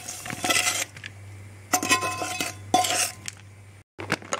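Roasted potatoes tipped into a salad bowl that already holds sugar snap peas and red onion rings: a few scattered clinks and knocks of utensils against the bowl, close and moderately loud, with short quiet gaps between them.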